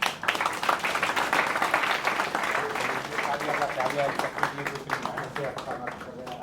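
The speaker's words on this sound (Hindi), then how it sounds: "दिनेश सर एक बार जोरदार ताली।" Audience applause for Dinesh Ahlawat after a stage play of Oedipus, a loud, dense burst of clapping from a crowd that carries on steadily and tapers slightly toward the end, with voices underneath.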